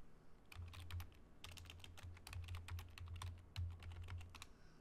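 Keys clatter on a computer keyboard while text is typed into a Google Docs script, a steady run of close, crisp clicks in uneven bursts with a short pause near the start and no voice.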